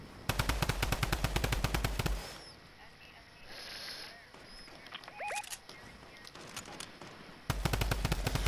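A drum gun fires rapid, evenly spaced bursts in a Fortnite squad match, with one long burst at the start and another at the end, a quieter stretch between them, and players talking over the shots.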